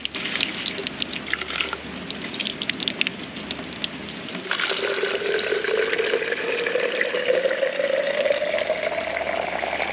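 Mountain spring water at a roadside catchment in the Cameron Highlands, a steady rushing trickle with splashy bursts early on, then a fuller stream pouring into a container as the pitch slowly rises.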